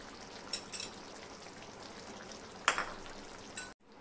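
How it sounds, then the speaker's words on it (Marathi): Wet cashews are stirred into a potato and vegetable dish in a pan, giving a soft, low sizzle with a few light scrapes and clinks from the spoon. "आता याच्यामध्ये आपण काजू टाकायचे, मिक्स करून घ्यायचे आधी।"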